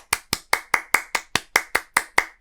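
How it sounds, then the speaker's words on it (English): Eleven crisp hand claps in a steady, evenly spaced rhythm, close and alone with no voices. "Pretty certain that's a clap now"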